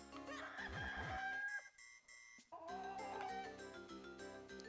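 Cuccos from the video game The Legend of Zelda: The Minish Cap crow and cluck in loud, repeated game-style bursts over chiptune music, with a short quieter break in the middle.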